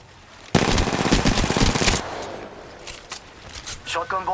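Loud rapid burst of automatic gunfire in the Apex Legends video game lasting about a second and a half, followed by scattered quieter shots and game character voice lines.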